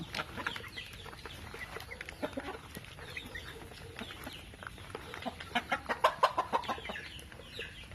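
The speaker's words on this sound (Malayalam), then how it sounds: "ഈ കാണുന്നത് ഒരു കരിങ്കോഴി ആണ്" Black chickens cluck repeatedly in a busy poultry farm in Kerala, with overlapping calls and short bursts of clucking that grow louder and quicker toward the end.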